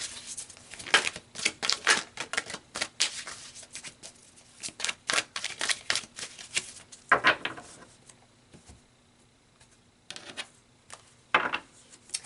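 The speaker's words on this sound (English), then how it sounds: "So let's pull some more cards." Tarot cards are shuffled and pulled by hand at close range: quick bursts of riffling and snapping card edges, clustered in irregular runs separated by short quiet gaps, with no talking.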